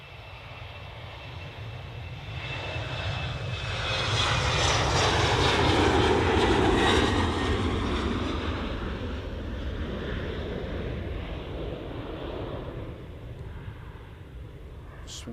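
Embraer E190 jet of Helvetic departing Manchester Airport, engines roaring steadily and swelling to a loud peak midway before easing slightly, with broadband wind-like rush throughout.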